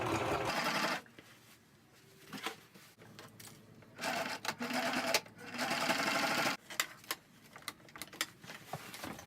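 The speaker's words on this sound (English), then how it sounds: "I just finished sewing the panel into the actual pant." A sewing machine sews a denim panel into a pair of jeans, running in loud, close bursts of rapid stitching with short quiet pauses between runs and no voices.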